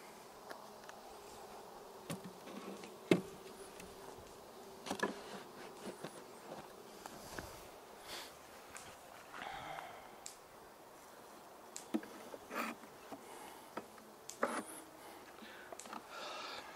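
Honeybees buzz around an open hive as frames are handled, giving a soft continuous hum broken by scattered sharp knocks and scrapes from the woodwork.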